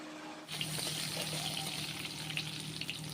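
Egg curry frying and sizzling steadily in a pan, a continuous bright crackle that starts abruptly after a brief quiet moment and carries on evenly, with faint watery bubbling underneath.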